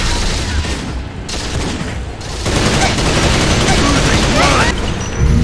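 Dense, continuous gunfire from weapons in Unreal Tournament 3 during a capture-the-flag match on the Crucible map, loud and close with overlapping bursts, booms and game announcer voice lines mixed in.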